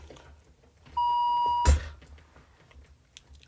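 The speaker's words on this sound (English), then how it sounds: "After the first playing of the extract, you will hear one bleep." One clean electronic bleep at a steady pitch, lasting under a second, marks the end of a French exam listening extract, sounding alone over a faint hum.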